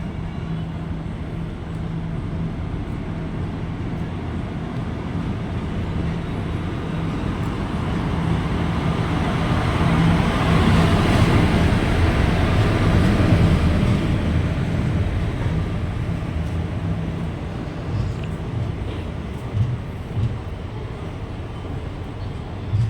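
A train passes at a station with the rumble building to a peak around the middle and then easing off, a steady low drone beneath, with no voices over it.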